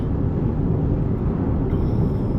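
Artificial driving sound from a Jaguar I-Pace S electric car: a steady, continuous low droning hum that holds at an even level with no pauses and no talking.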